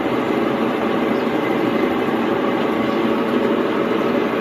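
Washing machine on its spin cycle, its motor running on worn bearings, gives a steady, loud, continuous rumbling whir with no pauses, alone without voices.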